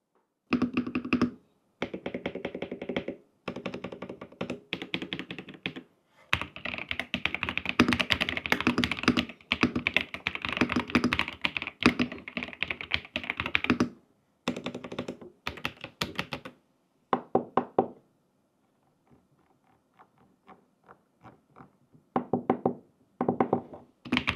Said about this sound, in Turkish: Bu güzel bir klavye. En ufak form faktörlerden bir tanesi R65. Şimdi gelin bir sesini dinleyelim